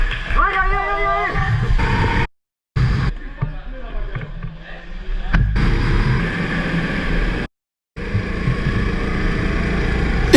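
Go-kart engines racing around the Magescq circuit in France, with rising whining revs early on, then rough buzzing engine noise broken by two brief dropouts, loud and close under talk.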